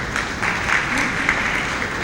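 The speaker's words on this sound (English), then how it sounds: "Round of applause, please" Steady applause from a conference audience at an education forum, a dense wash of clapping hands at even loudness throughout with no voices over it.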